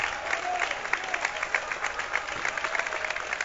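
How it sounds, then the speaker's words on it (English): Home crowd of Bowling Green faithful cheering and applauding steadily at a high school basketball game as ejected player McCann walks off toward the locker room, a continuous dense roar with scattered claps throughout. "he'll get a nice cheer from the Bowling Green faithful on his way to the locker room"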